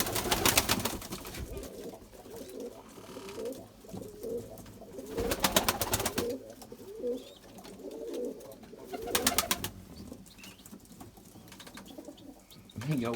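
A white Erzurum male pigeon coos in low repeated phrases, with bursts of wing flapping and someone talking now and then in the background.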